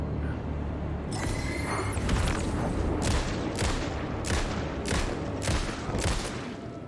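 Gunfire in the Alan Wake 2 video game: a run of about seven evenly spaced, sharp shots over a constant low rumbling background, moderately loud and without speech.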